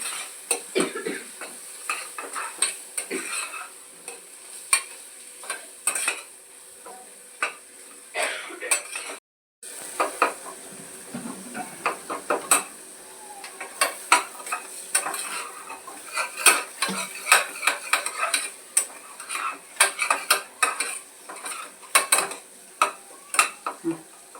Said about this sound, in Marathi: आता हे आपल्याला चांगलं छान असं परतून घ्यायचं आहे